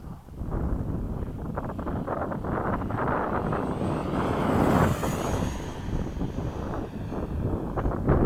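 FMS 70mm F/A-18 radio-controlled jet with an electric ducted fan unit making a fast pass, a steady broad roaring whoosh that swells toward the middle, mixed with heavy wind buffeting at an outdoor flying field.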